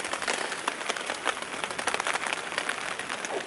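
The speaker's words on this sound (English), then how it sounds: "it's raining again" Rain patters densely on a tent at a campsite in a close, steady crackling drum of countless drops. The downpour holds at the same level throughout.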